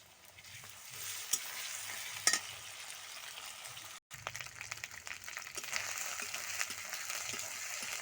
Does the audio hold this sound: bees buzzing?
no